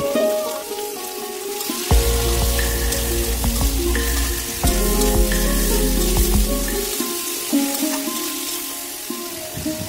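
Garlic, chili, ginger and cumin paste fries in a pan as masala is cooked down, a steady close sizzle running throughout, with louder bursts and a low rumbling layer during stretches of stirring.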